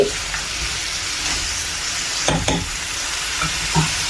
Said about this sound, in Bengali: সাথে হচ্ছে বড়িগুলো দিয়ে দিই